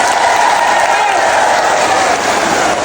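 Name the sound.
audience applause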